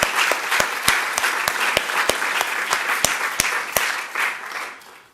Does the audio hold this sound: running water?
no